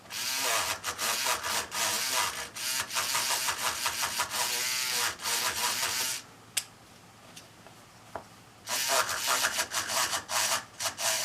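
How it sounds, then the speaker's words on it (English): Steady rasping scrapes as one side of a magnet is roughened before being glued into a pocket of a diamond stone holder, close and continuous in strokes, pausing briefly before the scraping resumes. "When I glue these magnets into a pocket like that, I like to scrape up one side of the magnet."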